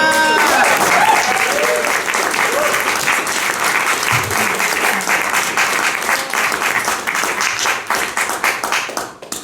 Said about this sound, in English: Now I've earned your applause.